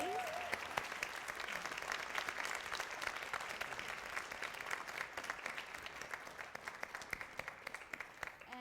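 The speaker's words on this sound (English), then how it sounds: "Another round of applause, please." Audience applause for a panel of speakers at the close of an event, steady dense clapping throughout with a brief voice near the start, filling the room at moderate distance.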